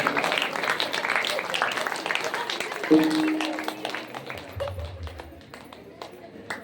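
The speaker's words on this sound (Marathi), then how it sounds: "जोरात होऊ द्या टाळ्या" Audience clapping at a Marathi kirtan in Katol: dense, fast crowd applause under a speaking voice, thinning out toward the end.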